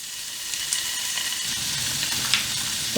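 Beef sizzling with garlic and onion in a frying pan with a little oil, a steady close hiss and crackle running throughout, with a brief clink near the end.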